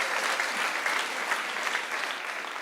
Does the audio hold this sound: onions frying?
no